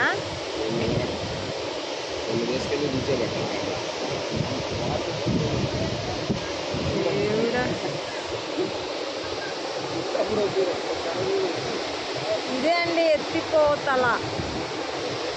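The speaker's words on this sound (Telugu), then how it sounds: "ఎత్తిపోతల జలపాతం. వాటర్ చూడండి ఎంత ఫుల్ ఫ్లోటింగ్ వస్తున్నాయి" Ethipothala waterfall near Nagarjuna Sagar Dam in full flow roars steadily, a dense continuous rush of water, with people talking and some birdlike chirps over it.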